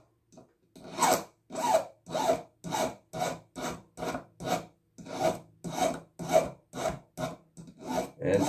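A hand file rasps across a small metal crucifix in steady back-and-forth strokes, about a dozen even scrapes in a row, close and alone with no talk.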